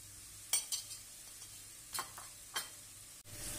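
Quiet sizzling of boiled, chopped potatoes and onions in a pan with a few scraping stirs of a utensil and soft clicks, close by with no voices.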